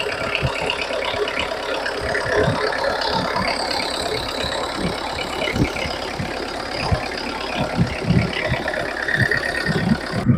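A 2003 Maruti Zen with a starting problem and loose parts idles close by, a steady mid-pitched engine hum with uneven rattling knocks throughout and no talking.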